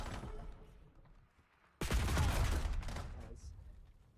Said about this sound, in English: These gunfights are going back and forth, man.